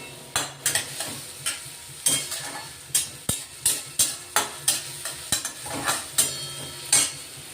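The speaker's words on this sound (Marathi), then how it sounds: "कांदा शिजण्यासाठी चिमूटभर मीठ टाकतोय आपण चांगला कांदा लाल झाला पाहिजे" Onions with a pinch of salt frying in a pan and stirred with a utensil: repeated close scraping strokes in a steady rhythm over a continuous sizzle, with no talking.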